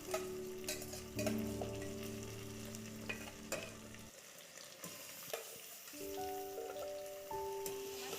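Marinated mutton stirred and fried in a pressure cooker for a thin curry, giving a steady sizzle with scraping stirs. A spoon clinks now and then, and the sizzle dips briefly midway.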